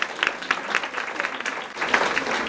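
Applause from a crowd at a women's banquet, dense steady clapping filling the room throughout.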